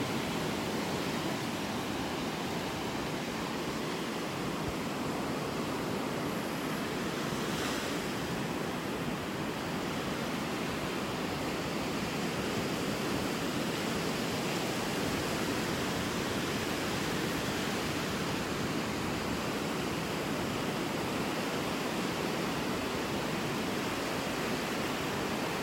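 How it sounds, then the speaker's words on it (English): Good-sized ocean waves break on a North Naples, Florida beach, a continuous broad wash of surf that rolls on steadily for nearly half a minute, with no talk. "These are some pretty nice sized waves breaking out here"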